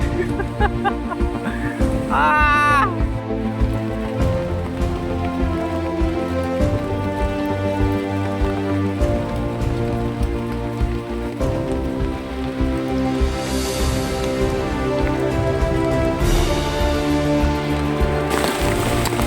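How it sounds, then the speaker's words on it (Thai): Steady rain patters across the whole stretch, fairly loud and continuous, with a rooster-like cluck or call briefly rising above it early on. "ฝนตกแล้ว"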